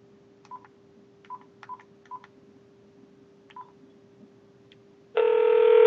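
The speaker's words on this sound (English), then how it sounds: "So I'm going to dial the number right now" A series of short telephone keypad tones beeps irregularly as a Google Voice number is dialed, then a steady ringing tone begins.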